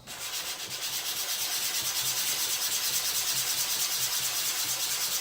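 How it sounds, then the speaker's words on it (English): Wooden ring pieces being sanded flat on both faces give a steady, close, scratchy rubbing with a faint back-and-forth stroke rhythm, running continuously with no voices. "The idea is to sand this both sides flat and then glue them together."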